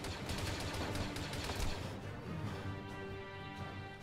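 Gunfire in the military video game Arma, heard as rapid, loud bursts of shots around a building that crackle and thud densely in the first half, then thin into a lower rumble.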